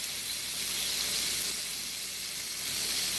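Garlic shrimp sizzle in a moderately hot skillet with a steady, bright hiss that holds even and unbroken throughout, close by and alone without talk.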